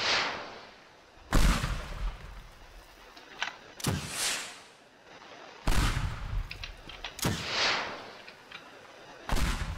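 Gunshots in the video game Teardown ring out as several loud, sharp blasts at irregular intervals, each trailing off in a rumbling echo.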